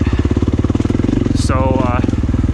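KTM 500 single-cylinder dirt bike engine idling and revving lightly, a close, steady thumping pulse with someone talking over it.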